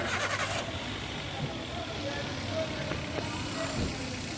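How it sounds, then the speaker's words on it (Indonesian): Daihatsu Terios Rush car engine cranking and catching, starting up close with a steady mechanical churn that settles toward idle, a person talking over it. "kita nyalakan mesinnya"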